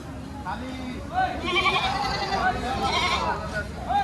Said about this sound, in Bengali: এই বাচ্চাগুলো ছাগল